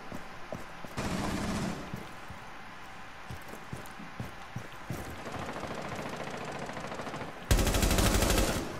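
Gunfire in the Rainbow Six video game: a burst of automatic fire, then a stretch of quieter shots and clatter, then a second loud sustained burst near the end, with nobody speaking.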